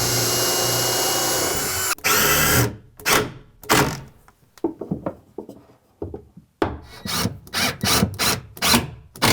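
A power drill drives screws into a cabinet filler fitted against a wall, making a series of loud whirring bursts separated by short pauses, each ending as the screw seats into the wood.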